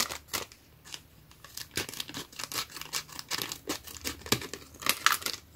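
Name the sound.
scissors cutting paper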